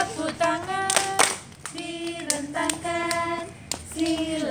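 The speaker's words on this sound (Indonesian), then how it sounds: "Tepuk tangan" Hand clapping keeps time with a children's song, sharp claps landing in rhythm between sung lines, close and fairly loud, with singing voices carrying the melody throughout.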